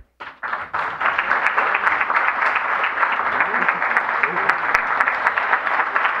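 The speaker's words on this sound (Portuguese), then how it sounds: "obrigada pelas palmas" Steady applause from a church congregation fills the whole stretch, dense and continuous after a brief start.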